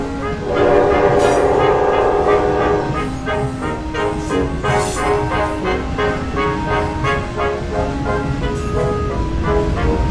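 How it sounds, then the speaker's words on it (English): A train rumbles past with its horn blaring, a loud sustained chord over the rolling clatter of cars on the rails. "The new footage features the massive bomb being carefully transported by train."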